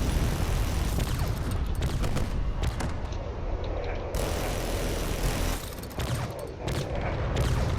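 Rapid, dense gunfire from a space battle between drones in a video game, with a ship firing repeatedly at a circling Corvette; loud, continuous rattling bursts with short gaps, no voices.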